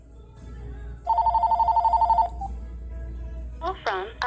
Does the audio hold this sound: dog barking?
no